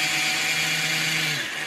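A power drill with a 1/16 inch bit bores perpendicular down through a block, a steady high whine held close and loud, dropping slightly in pitch as it eases off at the end.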